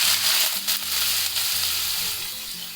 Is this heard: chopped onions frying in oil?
yes